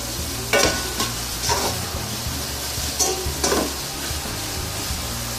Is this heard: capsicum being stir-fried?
yes